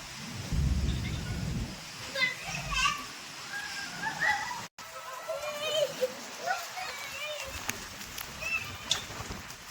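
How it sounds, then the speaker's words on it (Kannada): Rumbling thunder from an early monsoon storm heard from a terrace, low and distant beneath the chatter and shouts of children playing nearby. "ನಿಮ್ಗೆ ಗುಡುಗು ಸಿಡ್ಲು ಎಲ್ಲ ಕೇಳಿಸ್ತಾ ಇದೀಯಾ"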